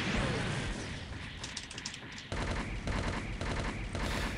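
Gundam F-91 firing shots in SD Gundam Online, a stream of rapid mechanical gunfire bursts with metallic clatter, loud and close with no talking.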